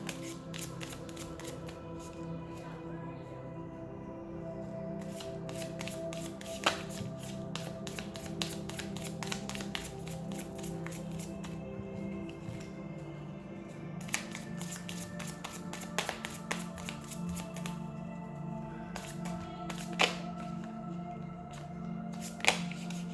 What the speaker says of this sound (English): these cards are not shuffling right today